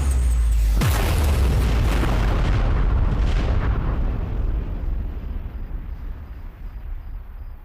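A single loud firework explosion booms close by, followed by a long rumbling, crackling tail that slowly fades over several seconds.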